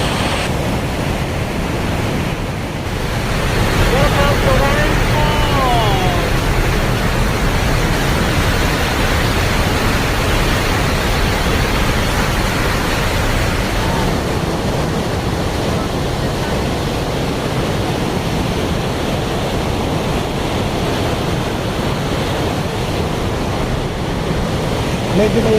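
Rhine Falls in Switzerland roars loudly and without a break from the lower viewing deck beside the falling water. The broad, rushing noise carries on steadily with wind buffeting the microphone.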